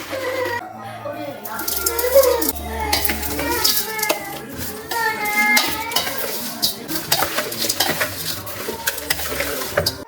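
Cut citron pieces are mixed with salt in a vessel, giving close, continuous stirring and scraping with light clinks while someone talks over it.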